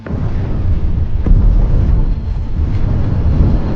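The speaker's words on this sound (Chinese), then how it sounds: "伊万果断扣动扳机，引爆了埋藏的炸弹" A buried bomb detonates in a war film, a loud sustained low-end rumble that swells and rolls on for several seconds, with a sharper burst near the middle and no speech.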